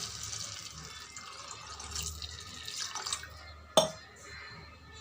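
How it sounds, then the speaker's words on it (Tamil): Water poured from a vessel into a pan of fried vermicelli while cooking milkmaid payasam, a continuous splashing trickle that ends with a sharp clink of metal. "இப்போ நம்ம தேவையான தண்ணி ஊற்றிக்கலாம் இந்த சேமியா வேகிறதுக்கு"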